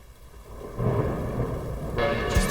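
Rolling thunder and steady rain form an ambient layer beside a soft synth pad in a music track, swelling into a dense, continuous wash with a brighter rain hiss near the end.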